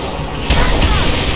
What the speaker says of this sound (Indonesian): I'm going to shoot the fireball in the air